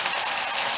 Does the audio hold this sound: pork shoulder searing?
yes